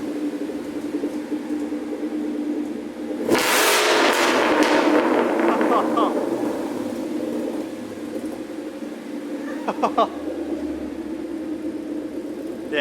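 A car fitted with a Whipple supercharger and old Corsa exhaust is started and revved, giving a sudden loud, harsh blast that settles into a steady rumbling idle with a few sharp blips, people talking over it.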